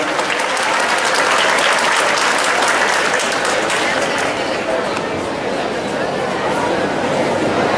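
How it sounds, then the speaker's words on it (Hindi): Loud, sustained applause from a school audience at a director's birthday celebration, with dense, steady clapping filling the whole stretch and a faint murmur of chatter beneath it. "एक बार जोरदार तालियां बजाएं"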